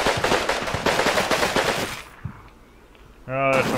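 Dense gunfire and machine gun bursts in the World War II strategy game Combat Mission: Rome to Victory, with troops blind firing into a forest. Loud rapid volleys stop, a short lull follows, then another burst.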